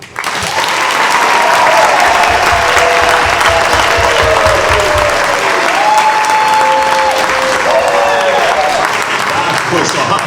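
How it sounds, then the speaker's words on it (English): A studio audience bursts into sustained, loud applause for a live broadcast test run, dense clapping filling the room steadily for about ten seconds with a few whoops. "please help start our broadcast with a rousing round of applause"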